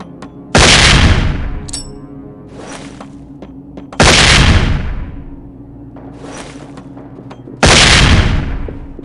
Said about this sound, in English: bangs are designed to disorient people with a very loud bang and an extremely bright bang